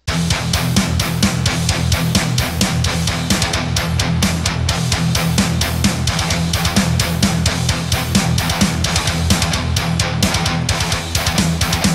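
A full band plays a dense, continuous groove in a mixed meter of six bars of 6/8 followed by two bars of 4/4, with loud steady drums and sustained low instruments and no talking.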